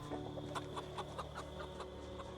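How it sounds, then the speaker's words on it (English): Chickens cluck in a farming video game, a quick run of soft, regular clucks over a steady low background hum. "4 chickens and a rooster."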